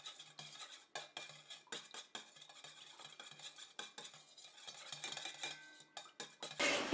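Melted candle wax with added dye is stirred with a utensil in a container, producing faint, repeated scraping and clinking strokes at a steady, unhurried pace.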